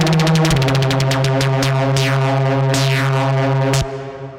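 A wild, heavily modulated synth patch from an Arturia Prophet 5 or Mini Moog emulation: a loud, sustained drone with rapid pulsing, sweeping zaps and chirps over a steady low tone, then a sudden drop near the end.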